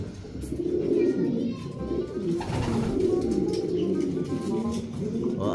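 Tiger Line pigeons coo repeatedly in a new cage set up in a storeroom, soft throaty calls rolling on and off under a low murmur of background noise.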